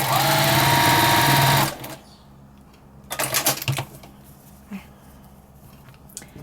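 A sewing machine runs steadily for under two seconds, stitching 2.5-inch quilt squares into rows with a quarter-inch seam for a potholder, then stops, followed by quieter handling noises and a short burst of rustling.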